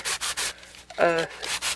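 Rhythmic scratchy rubbing strokes of a worn sanding sponge roughing up a mini journal's surface, several quick back-and-forth passes up close.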